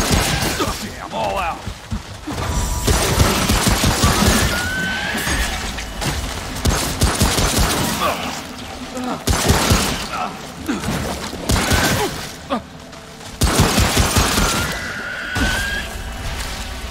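Gunfire from shooting an enemy in the video game Remnant: From the Ashes, with repeated shots in rapid bursts spread across a loud, busy combat mix along with clanking effects.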